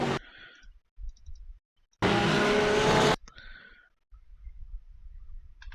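Porsche and Mercedes race cars in an iRacing replay, heard as a loud burst of engine and tire noise lasting about a second. Quieter clicks and engine fragments come before and after it, with silent gaps between.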